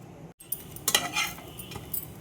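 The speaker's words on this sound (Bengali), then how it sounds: "একটু একটু করে তেল দিচ্ছি আর সেঁকছি।" Bread being toasted with oil in a pan, a faint sizzle under a few close scrapes and taps of a utensil against the pan, with no talk.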